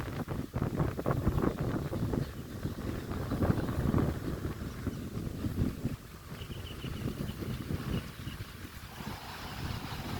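Strong wind sweeps across open rice fields in a village in Raozan, Chittagong, buffeting the microphone with a loud, gusty roar that eases a little partway through.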